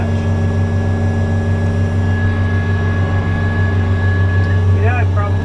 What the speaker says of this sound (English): we're going to go ahead and unhook the power quick attach for you